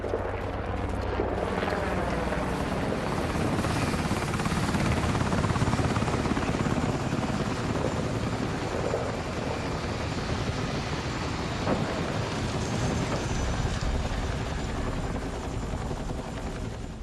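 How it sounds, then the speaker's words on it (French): A helicopter arrives near Gibraltar in Battlefield 6, its loud rotor roar and heavy engine drone holding steady close by for the whole stretch, with faint voices briefly underneath. "Carter, notre hélico arrive."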